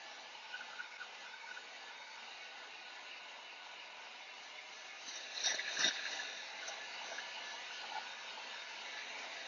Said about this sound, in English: You can use a blow dryer.